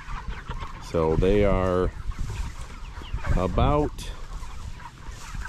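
Pastured meat chickens, seven-week-old hens on grass, give loud drawn-out clucking calls, two close bursts over outdoor ambience while someone talks.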